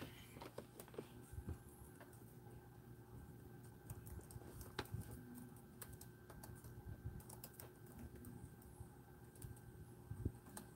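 Quiet, steady typing on a computer keyboard, with soft rapid key clicks and a few sharper taps continuing alone for about ten seconds.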